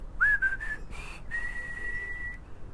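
Human whistling practice: a few short wavering whistled notes, then a longer steady tone held for about a second, fairly faint against a quiet background.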